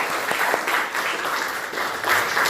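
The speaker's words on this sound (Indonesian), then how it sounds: "tepuk tangan untuk kalian semua" A classroom of vocational high school students applauds, steady continuous clapping from many hands for a couple of seconds, close and fairly loud with no talk over it.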